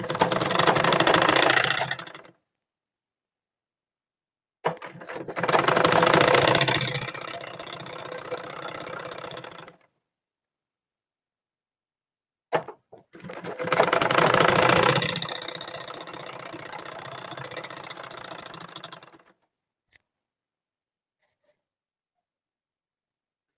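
A sewing machine stitches turban cap fabric in three separate runs of steady whirring, each lasting a few seconds with silent gaps between, close and loud with no voices.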